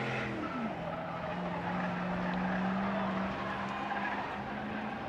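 Trucks slide and race at spectator drags at Rockford Speedway, with a steady engine roar and a long sustained tire squeal rising and holding through the run at a distance.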